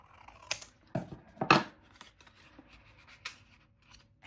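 Scissors trim paper while making a small matchbook notepad, producing several sharp, close snips spaced unevenly with quiet pauses between them.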